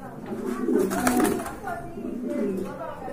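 Pigeons in a pen are restless, cooing softly and moving about at close range throughout, partly under a person talking nearby.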